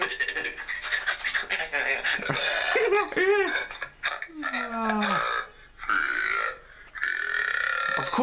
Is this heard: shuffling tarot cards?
no